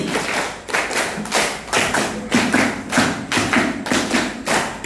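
A classroom group of teachers or students claps together in a steady rhythm, about a dozen loud, evenly spaced hand claps in a row, close and clear with no talking over them.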